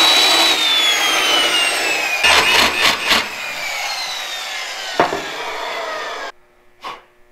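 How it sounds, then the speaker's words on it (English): A power saw cuts 45 and 22 degree angles on metal pieces during a motor build, a loud steady whine with rhythmic grinding bursts in the middle, then stopping and fading into a quieter tail. "We'll cut a 45 and a 22 on them to trim them down."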